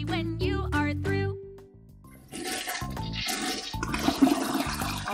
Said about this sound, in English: It's time to flush. Flush, flush, flush, that's what we do.